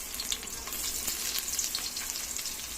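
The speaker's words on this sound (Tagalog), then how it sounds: "Tara guys, igigisa ko na." Garlic and onion sautéing in a hot pan give a continuous, bright crackling sizzle with small popping flecks throughout, close and fairly even in loudness.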